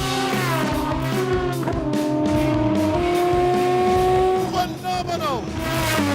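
Aston Martin Vulcan race car engine at full song, loud howling harmonics climbing through the revs with gear changes, a near and intense track-driving roar, with a voice talking over it.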